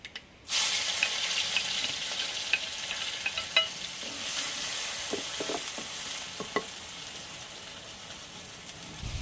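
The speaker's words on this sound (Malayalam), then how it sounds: "അപ്പോൾ കടുക് പൊട്ടിയിട്ടുണ്ട് അപ്പോൾ നമുക്ക് ചതച്ച് വെച്ചിരിക്കുന്ന ചെറിയ ഉള്ളി" Crushed shallots hit hot oil where mustard seeds have already popped, bursting into a loud, steady sizzle with a few sharp crackles and spatters, close and without speech.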